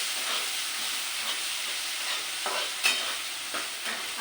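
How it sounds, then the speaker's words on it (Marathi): Tomato and onion frying in a pan, a steady close sizzle with occasional soft stirring scrapes and small pops, no talking. "आणि टमाटर कांदा हे भाजून घ्यायचा लालसर"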